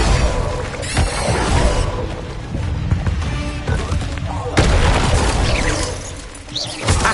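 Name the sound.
Confringo and Incendio spell blasts in Hogwarts Legacy video game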